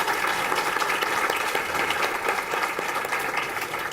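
A sustained round of audience applause at an honoree recognition event, many hands clapping densely and steadily for several seconds, fairly loud and unbroken, with no talking over it.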